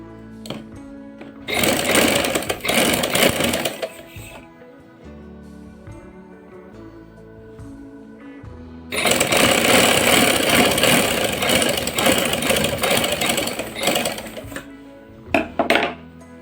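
An electric sewing machine stitches the shoulder seams of a lined kameez in two long, steady runs. Quieter pauses fall between the runs, and a short final burst follows.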